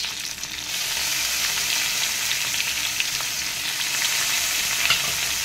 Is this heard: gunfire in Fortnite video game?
no